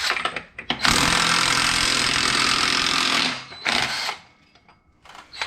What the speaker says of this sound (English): you're going to need a 32mm socket. And you're going to want to use an Ugga Dugga gun